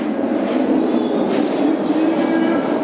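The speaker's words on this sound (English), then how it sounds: "Choo choo train!" A train rumbles along the tracks with a steady, loud low roar and faint high squeals, close and continuous.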